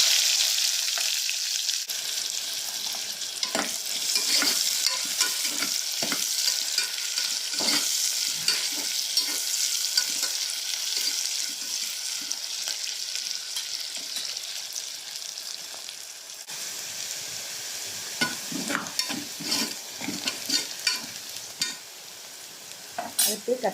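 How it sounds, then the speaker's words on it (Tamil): Chopped onions sizzle steadily in hot oil, with occasional scraping stir strokes, close and moderately loud, no talking. "கட் பண்ணி வச்சுருக்க வெங்காயத்தை இப்போ சேர்த்துக்கலாம்."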